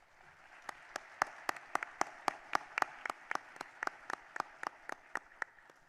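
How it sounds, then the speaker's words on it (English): An audience applauds an award recipient at an annual awards ceremony with a run of about twenty sharp, evenly spaced claps standing out over a soft, steady wash of clapping. The sound is moderately close, with no talking. "let's clap for her again"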